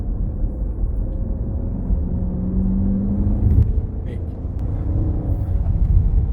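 A Dodge Durango R/T SUV's engine rumbles low and steady from inside the cabin while driving, with a brief rising hum midway and a voice speaking over it.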